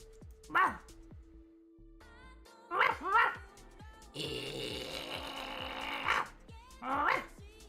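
Dog bark sound effect from the mahjong video game Riichi City, a few short barks spaced several seconds apart over steady game music, with a brief voice in between.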